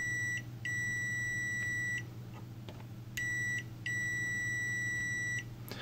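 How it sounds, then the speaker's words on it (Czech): An HT206 DCA clamp meter gives repeated high electronic beeps in its continuity mode, in bursts of steady tone with short gaps, over a low steady hum. "Jak vidíme, nejdřív pípne, pak se probere, začne se hledat a pak teprve se rozpípá a rozsvítí."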